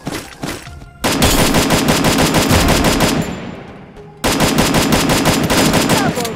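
Rapid automatic gunfire in the Free Fire video game, with long dense bursts of shots that rattle close and loud, briefly tailing off before another burst resumes.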